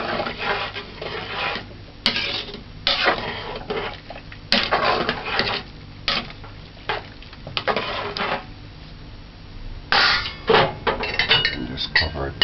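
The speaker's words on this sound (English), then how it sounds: "stirring well." A spoon stirs noodles through a pot of chicken soup, making intermittent scraping and clinking bursts against the pot with quiet gaps between strokes.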